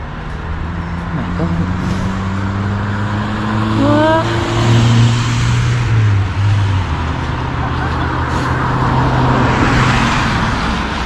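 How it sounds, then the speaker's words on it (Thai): A car moves slowly along a snowy road with a steady low engine drone and tyre rumble heard from inside, while a voice briefly speaks partway through. "รถนี่ต้องขับช้าแล้วก็ขับ ด้วยความระมัดระวังพอสมควรเลยอะ"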